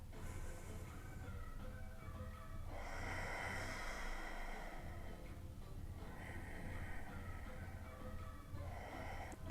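Slow, steady breaths drawn in and let out during a yoga tree pose, with long airy exhales in separate waves over a constant low background hum.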